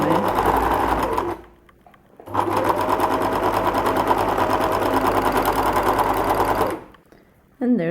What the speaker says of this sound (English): Now we flip it the other way and sew up the bottom seam